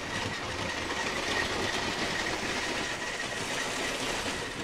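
A vintage LEGO 725 motorized toy train locomotive running around its track, giving a steady, continuous whirring motor hum with faint rattling clatter, close and constant throughout with no speech.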